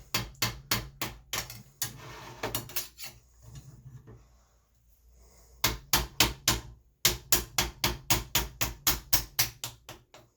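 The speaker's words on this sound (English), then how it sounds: "I have to take a hammer on the end of the scraper and gently tap it" Repeated sharp metallic taps from a hammer striking the end of a scraper on a 3D printer's Anycubic Ultrabase, coming in quick rhythmic bursts with a short quiet gap in the middle.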